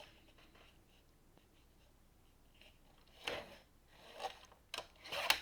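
Scissors cut a printed photo down to size in a quiet room, a few faint crisp snips and paper rustles arriving in short bursts toward the end.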